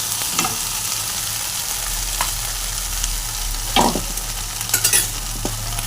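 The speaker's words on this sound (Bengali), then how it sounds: "সব সময় একসাথে ভালো করে মিশিয়ে নেব।" A vegetarian vegetable curry stirred and mixed in a pan, with a continuous soft sizzle under intermittent scraping and clinking of a spoon against the pan, heard close up with no voices.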